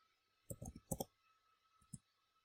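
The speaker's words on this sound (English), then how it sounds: "I'm just using my keyboard to type it in" Quick clusters of soft clicks tap out in short bursts as keys are pressed on a computer keyboard, close and quiet.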